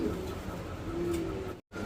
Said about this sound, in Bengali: একজোড়া সুপার কোয়ালিটির ফিল্ডব্যাক কবুতর এখানে দেখতে পাচ্ছেন